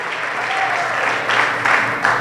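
Church congregation applause offered to God, a steady wash of many hands clapping with a few louder surges, a faint voice briefly underneath.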